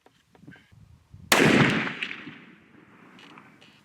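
A single loud gunshot from a Hankins custom smokeless powder muzzleloader rifle, a sharp close blast with a long rolling echo fading over two seconds, faint rustling before it.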